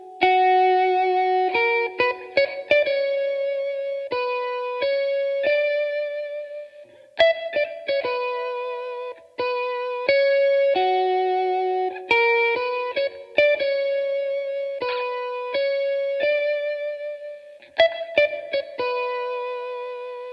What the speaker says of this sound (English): a guitar melody, but again played on the keyboard